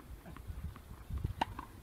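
Horse hooves clip-clopping at a sports event, a few soft irregular thuds at moderate distance against a faint background, with one sharper knock near the end.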